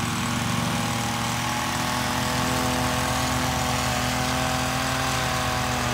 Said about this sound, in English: he is not mowing the new fake grass. He's floofing it. It's a brush, not a mower.